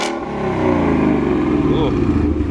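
A Roush Mustang rated at 775 hp on 22-inch staggered forged wheels revs its engine nearby, a loud rising growl that holds and roars steadily for a couple of seconds.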